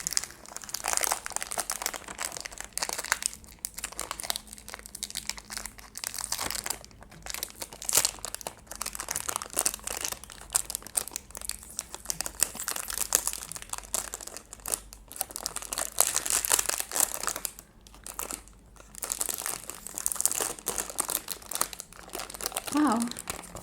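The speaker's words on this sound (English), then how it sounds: "It's going to be a very crinkly video" Close, continuous crinkling and rustling of biscuit packaging being handled and opened, loud and busy throughout with brief pauses, while a voice talks softly underneath at times.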